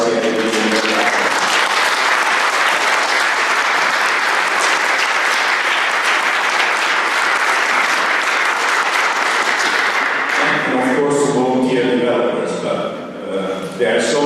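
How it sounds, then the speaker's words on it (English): Audience at a 2018 open-source software conference in Tirana claps loudly and steadily for about ten seconds, then the applause fades as a voice speaks over the last moments. "I would ask for an applause to Collabora, CIP"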